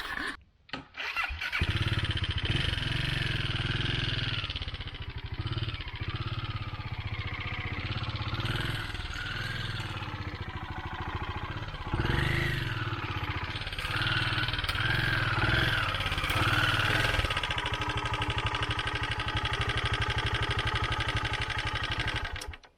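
A motorcycle engine starts and settles into a steady idle at a woodland campsite in the Talladega Oakmulgee area, a continuous close mechanical rumble with small shifts in pitch throughout.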